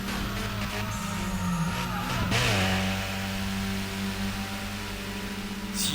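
Several car engines rev and roar together in the Burnout Paradise racing game, held at a steady loud level with rising tones and a brief squeal midway, and no voices.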